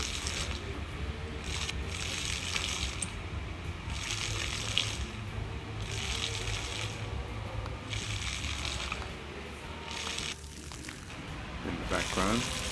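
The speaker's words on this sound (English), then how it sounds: "And here we have an interesting water feature." Fountain water feature outside the Louis Vuitton museum in Paris, a continuous splashing rush of falling water heard from nearby, with someone talking briefly over it.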